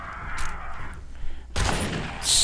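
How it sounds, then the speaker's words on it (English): Shotgun blasts in the survival game 7 Days to Die while fighting a tough zombie, two loud broadband bursts, the clearer one late in the clip, over ambient game noise. "Shotgun's gonna get her."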